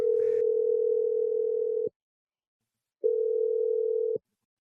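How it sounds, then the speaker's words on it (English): Telephone ringback tone while a call is placed on a radio show, two loud, steady, pure-pitched pulses with a pause between them, heard clearly alone. "Dialing it right now."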